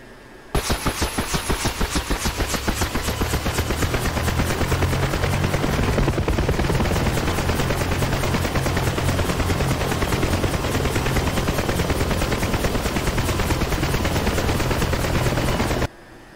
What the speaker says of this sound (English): Okay, the helicopter is just ahead of us.